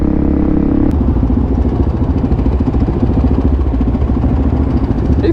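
A Suzuki DRZ supermoto motorcycle engine runs steadily while riding, loud and close with a constant buzzing drone and rattly clatter throughout.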